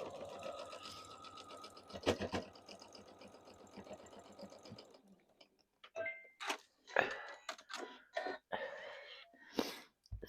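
A sewing machine runs in a fast, steady stitching burst for about five seconds while piecing a quarter-inch seam on a 12-inch sheep quilt block, followed by scattered clicks and handling noises as the fabric is adjusted.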